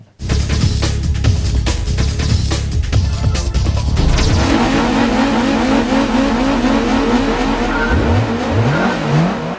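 A race car engine in Gran Turismo 3's full-motion video intro revs hard and shifts through gears, loud and close, with rising and falling pitch sweeps and tire squeal under driving music.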